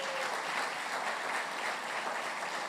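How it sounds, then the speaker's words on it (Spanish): A church congregation applauds its guests during a morning service, a dense, steady round of clapping from many hands that fills the whole stretch without pause. "Démosle un aplauso a nuestros invitados en esta mañana."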